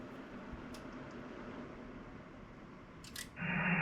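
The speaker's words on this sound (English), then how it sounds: "So you can hear some relay clicking on the 86, a fan comes on" Relays in a Flex 8600 Signature Series SDR transceiver tick a few times with sharp, faint clicks over a steady hiss, then a cooling fan starts and holds a louder, even whoosh to the end.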